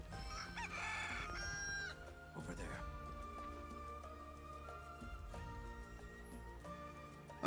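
A chicken clucks and crows in Final Fantasy VII Rebirth over steady background music, with a bright crow early on and a person speaking briefly.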